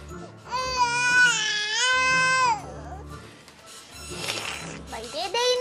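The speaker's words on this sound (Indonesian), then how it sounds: "Dia nangis lagi nih" A baby cries loudly in wailing bursts up close, broken by brief pauses and mixed with other sounds in the room.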